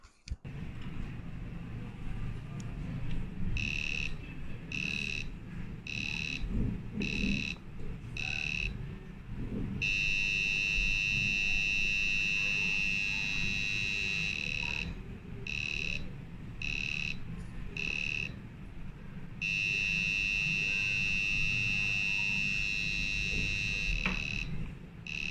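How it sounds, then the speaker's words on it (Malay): A high, steady electronic buzzer tone sounds in repeated bursts, switching on and off with short gaps, over a low background hum. "ambil buzzer tone"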